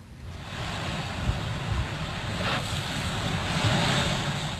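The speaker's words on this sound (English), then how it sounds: "Coastal communities in Massachusetts pounded by monster waves." Storm waves surge and crash against the Massachusetts coast amid strong wind, a continuous roaring wash with heavy gusts buffeting the microphone and no voices.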